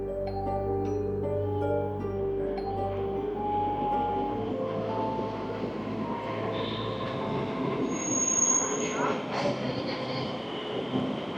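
A train runs at the Suoi Tien theme park in Vietnam, its steady rumble and rail hum heard close from inside the carriage, with metallic wheel squeals and brief high screeches rising over the rolling noise.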